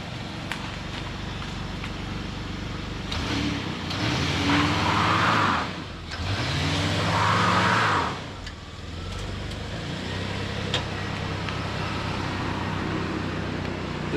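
A Toyota Crown Wagon with a faulty limited-slip differential moves off from inside a cramped space, its engine revving in two strong surges over a steady idle, close by.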